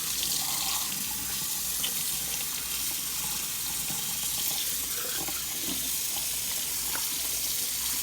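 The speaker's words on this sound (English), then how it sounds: "Get this turkey good and clean. Rinse it off front and back." A raw turkey being rinsed in a sink under a running kitchen tap. Loud, continuous splashing water runs steadily from start to finish.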